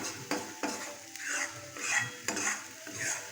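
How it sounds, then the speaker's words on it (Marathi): Ground masala of onion, coconut and garam masala is stirred and fried in oil, with soft scraping strokes and clinks of a spoon against the pot over a faint sizzle. "छान तेलामध्ये परतला आहे मसाला हा."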